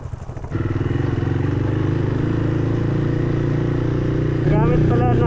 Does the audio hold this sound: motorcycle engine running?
yes